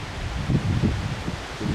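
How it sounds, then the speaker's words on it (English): Strong wind blowing through forest trees in Costa Rica, giving a close, loud rustle of leaves with buffeting gusts against the microphone, heard alone for a brief moment. "It's very windy"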